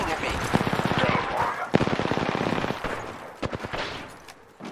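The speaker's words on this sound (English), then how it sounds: "Taking fire. The enemies are shooting at me." Enemy gunfire in an Apex Legends fight rattles off in fast, loud automatic bursts, followed by a few scattered single shots, with voices speaking over the shooting.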